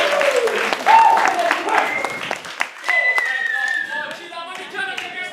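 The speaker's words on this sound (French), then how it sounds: "Merci, une bonne applaudissement pour Eric!" A French-speaking crowd at a live event applauds for a man named Eric, with dense clapping running throughout while voices call out and talk loudly over it.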